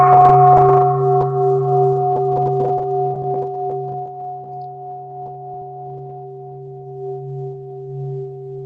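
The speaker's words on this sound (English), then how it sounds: "Again, I will invite the bell." A meditation bell struck once, its clear ringing tone sustaining and slowly fading over several seconds in a quiet room.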